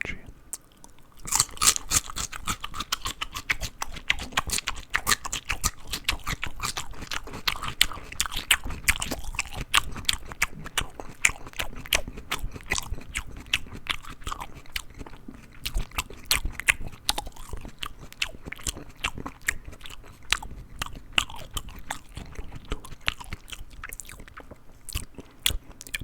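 Crunchy bites and chewing of raw celery close to the mic, a dense run of crisp snaps and wet mastication through the whole stretch, with soft whispered talk underneath at times.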